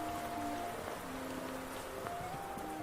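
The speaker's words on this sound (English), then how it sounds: "I'll keep the rain off you with my wing." Rain falls steadily throughout as a soft, even hiss in a fantasy adventure scene, with faint tones underneath and no voices.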